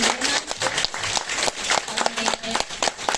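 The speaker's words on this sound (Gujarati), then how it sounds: "એના માટે જોરદાર તાળી પાડી" A business-meeting audience claps for newcomers, with uneven bursts of hand clapping mixed with some voices and a lively, close crowd feel.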